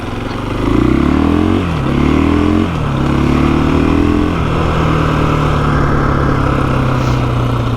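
A 2021 KTM 500 EXC dirt bike engine runs close by, revving up and down in a few rising blips before settling into a steady idle.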